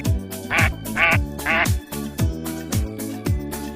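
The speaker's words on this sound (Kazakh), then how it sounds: "Үйрек." A duck quacks three times in quick, evenly spaced succession, loud and close, over a repeating rhythmic backing beat with no talking.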